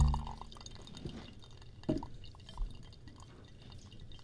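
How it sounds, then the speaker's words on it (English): Water drips at a quiet pace during a live New Year's Eve broadcast, with a few distinct soft plinks standing out over low background hum and no talk. "Listen to the dripping of the falling rain."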